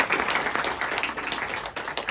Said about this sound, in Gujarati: એક વખત જોરદાર તાળીઓના નાદ સાથે